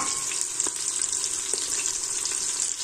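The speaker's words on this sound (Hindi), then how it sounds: "अब हम प्याज को हल्का सा ब्राउन करेंगे, बिल्कुल लाइट सा" Onions and whole garlic cloves frying in a pan, a constant close hiss and sizzle with a couple of faint stirring clicks.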